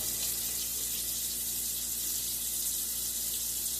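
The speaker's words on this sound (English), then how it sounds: "Go ahead and turn the cold water on." Cold water running from a kitchen tap while shellfish are rinsed, a steady faint hiss that carries on unbroken with no talk.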